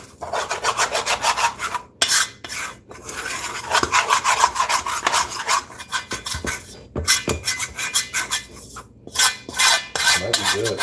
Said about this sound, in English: Little metal scraping ASMR